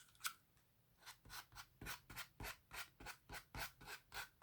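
Rhythmic sanding strokes against the raised bands of a curved, banded book spine, about a dozen evenly spaced rasping rubs up close, with no talking.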